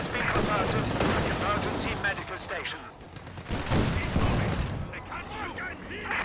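An M3 Stuart light tank fires amid a Company of Heroes 2 battle. Dense, loud gunfire, cannon blasts and explosions overlap continuously, with voices shouting over the din.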